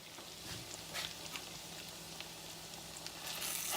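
Tuna patties frying in butter and oil, a steady close sizzle and crackle with small pops scattered through, no talk.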